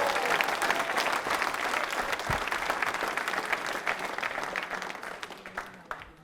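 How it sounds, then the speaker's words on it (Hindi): Loud, sustained applause from an audience at a quiz show for accounts officers, a dense wash of clapping that stays strong for several seconds before thinning slightly. "शेखावत के लिए जोरदार तालियां बजाइए"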